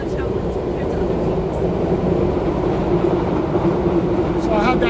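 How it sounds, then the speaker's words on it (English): Train rolling past behind an outdoor baseball media interview: a steady, loud rumble fills the whole stretch, with a person talking underneath it. "I had that train behind, so hopefully I heard you correctly."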